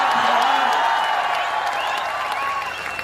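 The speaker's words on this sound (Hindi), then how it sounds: "ये बिना सुने ही ताली बजाना, बिना मांगे वोट दे रही है।" Crowd at an election campaign rally in Ferozepur Jhirka, Haryana, breaks into sustained clapping and cheering, a dense steady wash of applause with scattered whoops, fairly loud and continuous throughout.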